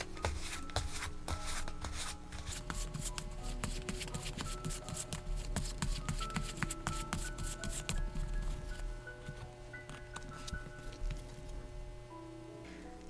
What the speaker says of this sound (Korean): 마지막으로 여러분을 위한 좋은 카드, 메시지 카드 한번 뽑아보고요